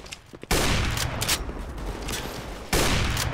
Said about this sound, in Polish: nasi coś tam się strzelają